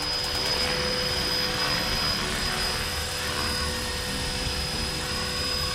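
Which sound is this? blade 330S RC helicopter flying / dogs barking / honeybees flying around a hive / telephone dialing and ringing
blade 330S RC helicopter flying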